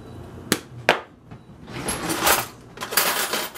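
Salt is poured into a jar of water and vinegar solution, a couple of sharp ticks followed by a grainy, hissing pour that swells and fades in bursts, close and fairly loud.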